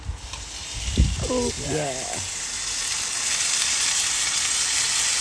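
A dry-brined, salted steak sears in hot oil in a pan, giving a steady loud sizzle and hiss that builds and holds. Someone speaks briefly near the start.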